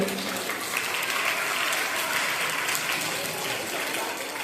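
An audience at a school's annual prize distribution ceremony claps steadily in a dense, even burst of applause that lasts throughout.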